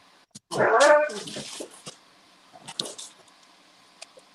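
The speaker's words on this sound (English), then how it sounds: "Look at these dogs." Dogs barking and whimpering: a loud, close burst of whining yelps, then a few fainter, scattered yips and short barks trailing off.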